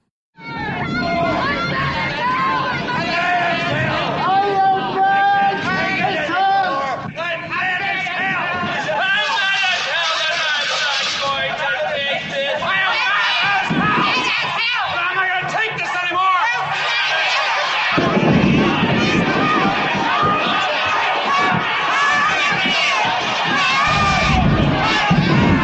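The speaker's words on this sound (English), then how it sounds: "There's a storm going on as all the people are yelling out of the window," A crowd yells out of windows during a storm in a film scene, a dense, continuous roar of many overlapping shouting voices with wind and noise beneath, loud throughout.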